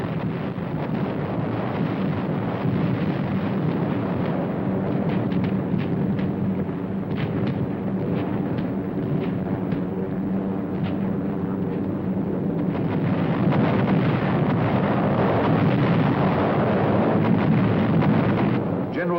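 Archival footage of a WWII bomber attack in Europe, more than 4,000 tons of bombs dropped, with a dense continuous rumble of distant explosions and roaring noise that swells and pulses for the whole stretch.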